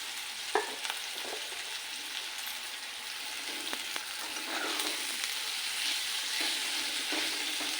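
Bharangi leaf greens fry and sizzle steadily in a pan, with a soft continuous hiss and a few faint stirring clinks, close and quiet, with no talking.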